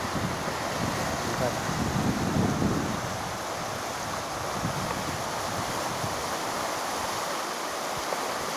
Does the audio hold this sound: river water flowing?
yes